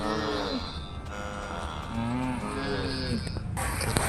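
Cows in the WorldBox video game moo in several long, drawn-out lowing calls, one after another, loud and close, with a soft game chime near the end.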